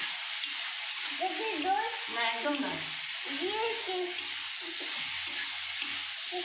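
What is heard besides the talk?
chilli beans paneer frying in a pan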